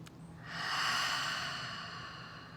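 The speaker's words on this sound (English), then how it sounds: "All right, so take a deep breath." A single slow, deep breath drawn in close to the microphone, a soft breathy rush that swells and then fades during a guided relaxation session.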